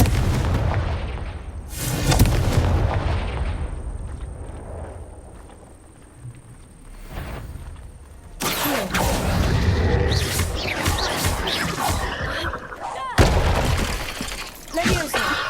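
Confringo fire spell blasts in Hogwarts Legacy, a series of loud explosive bursts with crackling debris, separated by quieter stretches of game ambience and effects.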